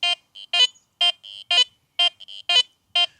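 A Garrett Vortex metal detector sounds its target tone over a nickel, repeated sharp electronic beeps in a regular rhythm with softer short tones between them, clear and alone.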